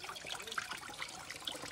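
Water from a mountain spring trickles faintly and steadily with soft splashes and drips, heard from close by in a quiet outdoor setting.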